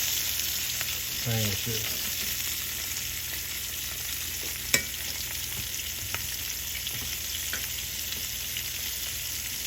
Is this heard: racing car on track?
no